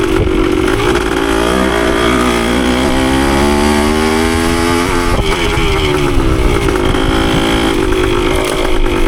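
A Yamaha CT3 175 motorcycle cruises in fourth gear, its engine a loud, continuous, close buzzing drone that holds steady with slight rises and dips in pitch as the throttle shifts.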